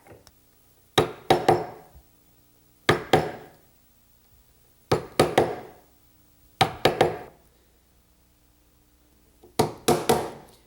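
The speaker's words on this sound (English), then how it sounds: "The next step is to chisel it out." Wood chisel driven by mallet blows to clear out a joint between two boards: close, sharp wooden knocks in five separate bursts of two or three strikes each, with quiet pauses between and no talking.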